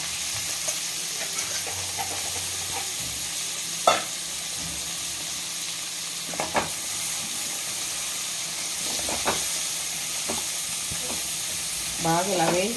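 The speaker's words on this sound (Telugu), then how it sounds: "వెన్న కరిగిన తర్వాత చికెన్ పీసులు వేసుకుందాం చికెన్లో వేగితేనే వెన్న వెన్నలో వేగితేనే చికెన్ పీసులు బాగుంటాయి" Chicken pieces fry in melted butter for a white sauce chicken pasta, giving a steady close sizzle broken by a few sharp scrapes and clinks of stirring, with no talking.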